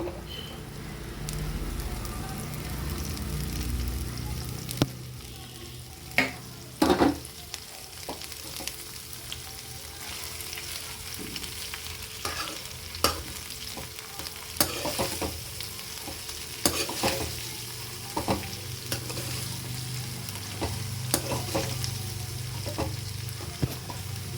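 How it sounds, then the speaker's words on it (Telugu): Grated cabbage sizzling steadily in a hot pan, with a spoon scraping and stirring it at intervals, producing sharp clattering knocks over the constant frying hiss; no voices. "ఇప్పుడు మనం తురుము పెట్టుకున్న క్యాబేజీని వేసేసుకుందాం."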